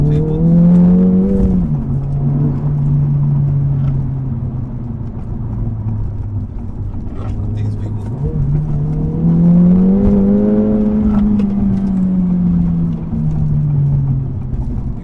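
An Acura Integra Type S engine pulls through the gears while driving, a loud steady drone that rises in pitch, drops at a shift, then climbs again, heard from inside the car with no talking.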